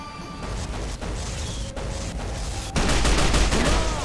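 Rapid bursts of gunfire from the video game Fallout New Vegas fill the whole stretch, loud and dense, with a heavier volley toward the end and no talking.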